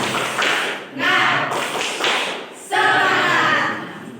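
A school class performs the rhythmic tepuk semangat clap, bursts of group clapping in a patterned beat with short pauses between phrases, close and loud, mixed with children's chanting voices.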